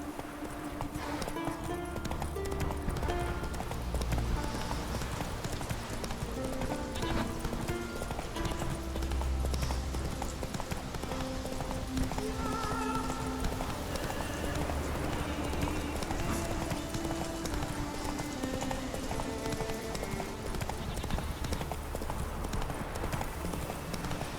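A horse gallops in The Witcher 3 video game, its rhythmic hoofbeats clip-clopping steadily and closely throughout. Game music and ambience play underneath.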